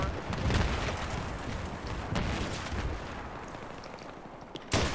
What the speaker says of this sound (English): Yep, it's that LAV, I think, because it's got that grenade launcher.